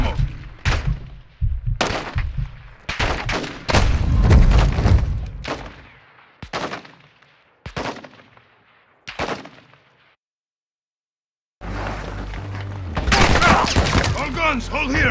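Bursts of gunfire from a Modern Warfare 2 campaign mission, several loud separate volleys and rapid shots with short gaps, ending in a dense stretch of continuous fire.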